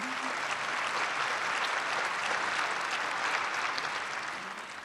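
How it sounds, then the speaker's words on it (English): Steady, full applause from an audience at a 2014 Dr. Martin Luther King Jr. celebration, sustained clapping throughout that dips slightly at the end. "Let's give her another round of applause"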